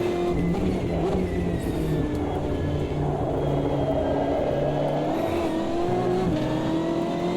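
Race car engine in the Automobilista 2 racing game, a loud sustained engine drone with pitch rising and falling through gear changes and throttle shifts, running continuously without pauses.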